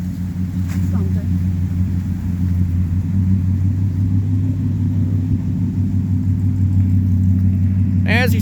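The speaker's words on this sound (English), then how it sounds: "some cars are obviously exiting" Cars leave the 2025 Fleming's Pumpkin Run car event, a steady low engine rumble and idle hum rolling past nearby, with a short sharp sound near the end.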